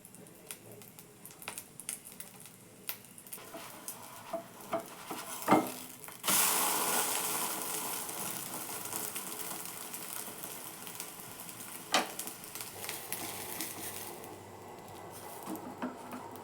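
Fish omelette batter sizzling in hot oil in a pan, a sudden rise of steady frying hiss around the pour that carries on at moderate level, with occasional clinks and scrapes, no talking.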